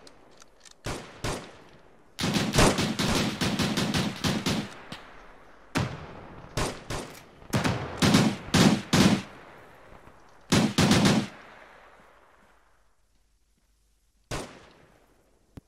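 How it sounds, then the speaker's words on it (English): Machine guns lay down suppressing fire in the Arma 3 video game, with repeated loud bursts of rapid gunfire and scattered single shots across the battle, separated by brief gaps and ending in one last distant-sounding shot. "Machine guns provide supporting fire, other elements forward."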